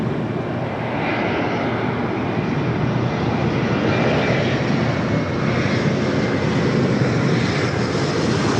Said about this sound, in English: Delta connection E-Jet as the A350-1000 rolling down to 24 left here on the north side.